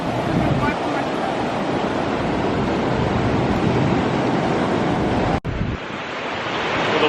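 Ocean waves wash continuously onto Daytona Beach, a loud, broadband roar of surf mixed with wind buffeting the microphone, with a brief dropout near the end.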